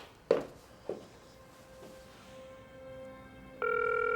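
A telephone gives a couple of sharp clicks and a short tone, then after a pause a steady ringback or dial tone starts and holds loudly to the end, with no voice heard.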